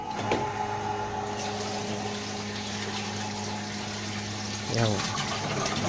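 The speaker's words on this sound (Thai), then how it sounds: "เราจะมาลองเทสกับปั๊ม เรชเชอร์ขนาดเล็กนะครับ" A small solar-powered pressure pump hums steadily while pumping water, with a loud, continuous tonal drone and a brief surge near the end, alongside a short spoken word.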